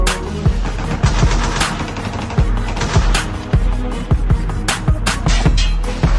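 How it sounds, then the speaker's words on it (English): Rapid bursts of gunfire crack repeatedly, loud and close, in an irregular rapid rhythm over a dense, noisy background. "Sounds like gunshots everywhere I go."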